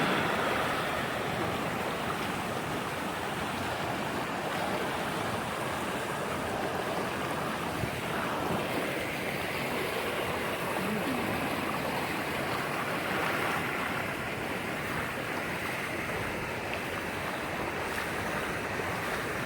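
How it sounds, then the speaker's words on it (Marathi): Shallow stream water flows steadily at Shiravane Waterfall in Jui Nagar, Navi Mumbai, where people wade across. It makes a continuous, even rushing wash close by, with no talk. "तसं पाणी आहे वाहतं"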